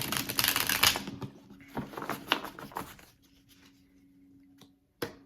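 Crisp riffling and papery flicks of a tarot deck being shuffled close by, several quick bursts, then a pause and one final sharp snap.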